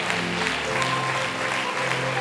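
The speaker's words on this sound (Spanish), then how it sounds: "Les damos una ofrenda de palmas al Señor." A church congregation applauds as an offering of praise during a Spanish-language service, a steady mass of clapping at moderate level throughout.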